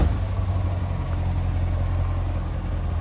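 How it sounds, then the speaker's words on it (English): A 2015 Corvette Z51 2LT coupe idles close by, its exhaust giving a deep, steady rumble that holds even throughout, with no voices over it. "Nice rumble to the exhaust."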